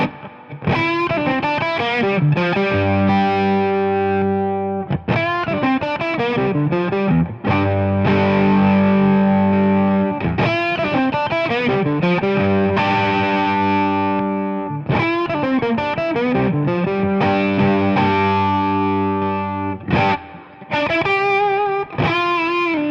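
An electric guitar plays through a WAT Ranges overdrive pedal with its bright switch engaged. Thick, crunchy distorted chords and notes ring out continuously, loud and alone, with no talk.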